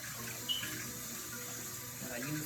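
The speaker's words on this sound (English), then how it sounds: "I'm gonna rinse my measuring cup off" Tap water runs steadily at low volume while a measuring cup is rinsed under it in a home kitchen, a soft continuous wash with a faint clink near the start.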